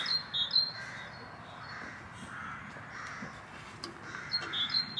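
Several birds caw and squawk repeatedly at a moderate distance around a flying drone, calls coming in short bursts over the drone's steady whirring hum.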